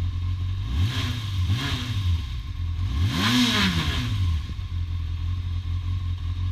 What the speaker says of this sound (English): Is that normal for spark plug cables to arc on the engine like that?